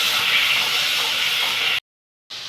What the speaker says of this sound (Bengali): এবার পেঁয়াজটা আদাটা ঢেলে দিচ্ছি। এটা কিছুক্ষণ কষিয়ে নিব।